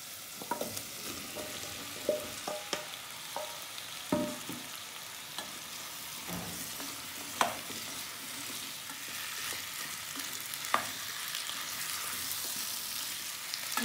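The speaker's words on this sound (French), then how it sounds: "bien mélanger les pommes de terre avec la sauce" Potatoes in sauce being stirred in a sizzling pan: a constant frying hiss broken by irregular scraping and clinking spoon strokes, close and moderately loud, with no voices.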